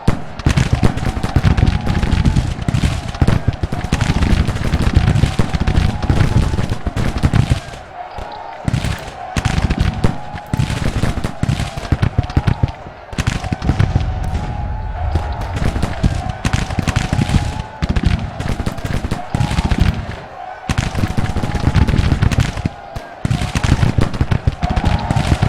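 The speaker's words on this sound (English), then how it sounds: "the regular shooting isn't working" Massed musket and artillery volleys in the American Civil War strategy game Grand Tactician, a dense, continuous crackle of rifle fire punctuated by heavy booms, with only brief lulls across the whole stretch.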